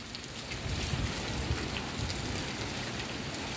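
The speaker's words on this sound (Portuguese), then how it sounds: "Aí virou essa chuva boa aí, ó. Molhou toda a rua, olha." Heavy rain pours onto a street in Paramirim, Bahia, during a thunderstorm, a steady dense hiss of drops hitting the ground, loud and unbroken throughout with no voices.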